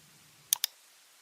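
Two sharp computer mouse clicks come in quick succession during modeling work in RFEM 6 structural design software, close and crisp against near silence.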